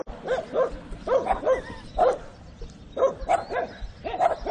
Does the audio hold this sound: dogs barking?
yes